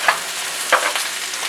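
Mostly frozen spinach cooks in a pan with a steady, hissing sizzle, broken by two brief scrapes of stirring; close and without voices.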